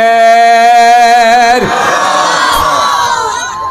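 A single sustained voice calls the takbir, then a large outdoor crowd answers in a loud, rolling collective shout that fades away at a religious remembrance gathering.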